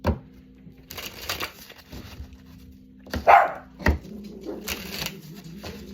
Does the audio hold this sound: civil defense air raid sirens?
no